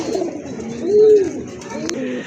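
Pigeons at a pigeon farm coo in a low, rolling call that swells in the middle of the clip, with more soft cooing and farmyard murmur around it.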